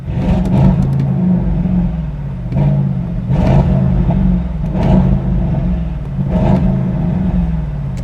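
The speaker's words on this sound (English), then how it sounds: "Sadly, we have a rev limiter." Audi RS6 C8 engine revving hard against the rev limiter, a loud steady roar with repeated surges and cuts roughly every second or so, close and continuous.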